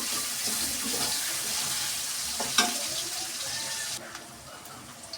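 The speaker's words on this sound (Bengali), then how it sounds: "এখন পেঁয়াজটাকে ভেজে নেব" Chopped onions with a pinch of salt frying in a pan for biryani: a loud, dense, continuous sizzle with a brief clatter of utensils midway, easing slightly near the end, close with no talk.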